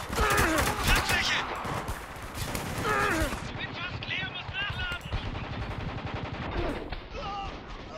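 Gunfire in the video game Spec Ops: The Line comes as bursts of rapid shots over layered combat noise, with people talking excitedly throughout.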